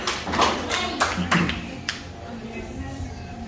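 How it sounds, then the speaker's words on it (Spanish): A small group claps for María at a team uniform handover, a few seconds of uneven, modest hand claps with scattered sharp slaps, fading toward a quiet room. "un aplauso para María"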